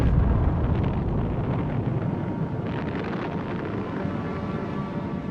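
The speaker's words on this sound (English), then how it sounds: "The bomb was detonated" A British nuclear bomb test detonation heard as a sustained, loud, low rumbling roar with a broad wind-like rush, continuous and unbroken across the whole stretch, with no voices.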